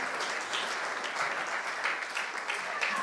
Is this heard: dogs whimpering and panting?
no